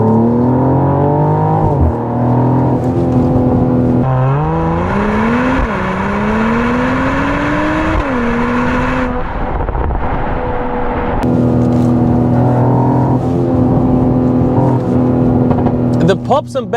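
A 2024 Mercedes-Benz GLE 53 AMG engine revs up and down in swelling pitch sweeps, with a crackling burst of exhaust pops in the middle and a rough overrun at the end, close and loud.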